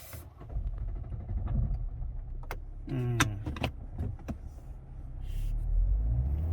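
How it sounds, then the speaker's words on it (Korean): Inside a car with an ABS warning light and stalling problem, an engine idles with a low rumble, then clicks and a brief whirring crank come as it is restarted, followed by a steadier idle. "시동이 또 꺼지네요 다시 한번 걸어볼게요"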